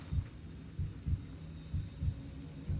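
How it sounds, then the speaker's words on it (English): A low-health heartbeat warning in the video game Path of Exile 2 thumps in steady double beats under a faint electronic hum, about five beats, soft and muffled with no talk. "I hear the heartbeat of, I'm gonna die in a sec."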